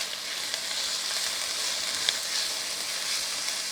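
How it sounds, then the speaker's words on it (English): Serrano and garlic mix sizzles in a pan as it is stirred, a steady bright hiss with faint occasional clicks of the utensil, close and unbroken, with no talking. "we're ready to put in our serrano and garlic mix, and we're going to stir this in for about a minute"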